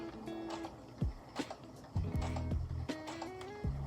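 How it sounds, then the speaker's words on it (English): A sewing machine back stitches a pant seam and then runs forward along it. Its clicking and whirring mechanism comes in short bursts over about four seconds, with faint ticks between them. "we're gonna back stitch, and we're gonna bring the seam right on up"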